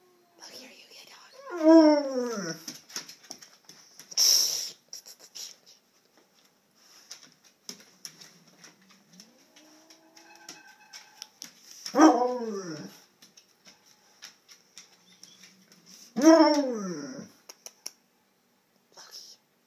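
A dog with masticatory myositis gives several drawn-out, wavering howls mixed with bark-like yelps, spaced apart and close by, while a person talks quietly between them.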